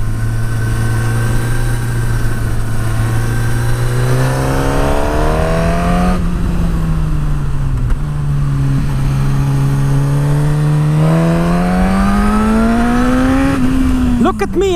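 A Suzuki GSX-S1000 motorcycle engine on a test ride rises and falls in loud, sustained revs, its pitch climbing repeatedly as it accelerates, with a steady close drone throughout and no speech.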